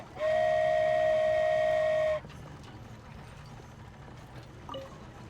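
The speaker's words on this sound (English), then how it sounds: "So this is what it feels like to ride a toy train." Toy train whistle aboard the Komania Express in Genshin Impact, one loud, steady two-second toot that cuts off abruptly, followed by quiet ambient rumble and a faint clink.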